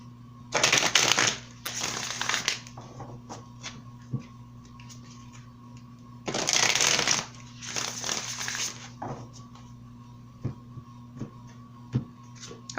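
Tarot cards are shuffled by hand in two bursts of brisk riffling and sliding, with soft card taps and flicks between them over a steady low hum.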